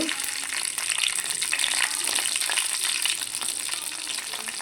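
Cumin seeds and green chilies crackle and sizzle in hot oil with a steady, dense hiss from start to finish, close and fairly loud, with no voices.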